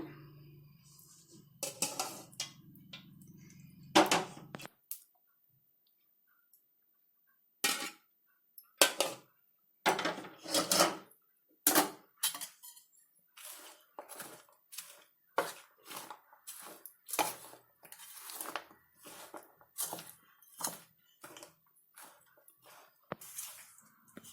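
Flaxseed and jaggery syrup are stirred together in a bowl for laddu, with intermittent scraping, clinking and sticky squishing strokes of a spoon, close and quiet with silent gaps between.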